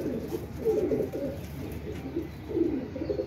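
Pigeons with pardak (plumage) markings cooing in a low, throaty rhythm, several soft bursts repeating close by over a faint background hiss.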